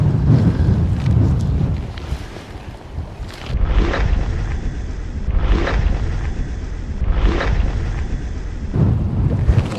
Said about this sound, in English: It's wild and windy